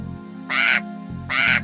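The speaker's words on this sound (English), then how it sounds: "A noisy cockatoo squawked." Two loud, harsh squawks from a noisy cockatoo in an animated story, each about a quarter second long and close up, separated by a brief pause over a low background hum.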